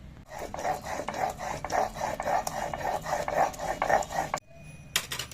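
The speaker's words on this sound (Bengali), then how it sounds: "তো এটা আমি একসঙ্গে পেস্ট করে নেব, শিলেই বেটে নেব" Black mustard seeds and green chillies ground together into a paste on a traditional stone slab, giving a steady run of rhythmic rasping, scraping strokes, close and fairly loud, with a brief pause near the end.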